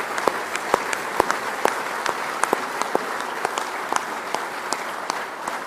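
An audience stands and claps together in honour of India's farmers, a dense, steady wash of applause with sharp individual claps popping through from start to end.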